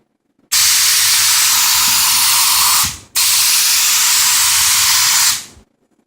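Spray coating hissing steadily from a nozzle onto a surface in two long continuous bursts of about two and a half seconds each, separated by a brief pause, loud and close.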